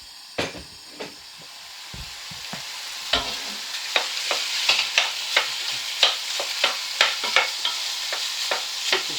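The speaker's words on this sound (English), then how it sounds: "Wait for that to start sizzling." Chicken pieces frying in a hot pan for jambalaya, a steady close sizzle and hiss broken by repeated sharp crackles and pops that grow busier as the meat heats, with no talking.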